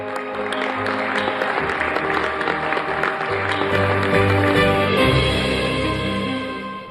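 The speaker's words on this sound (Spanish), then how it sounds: "Aplauso para ustedes." Audience applause at a Mexican public event celebrating completion of the Tren Maya railway, a steady, dense wash of clapping sustained for several seconds against a tonal background.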